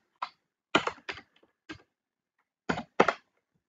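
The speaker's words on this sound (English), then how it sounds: "let me type in show databases" Short bursts of keystrokes on a computer keyboard while entering a database command, clustered into a few quick groups with pauses between, close and fairly quiet with no talking.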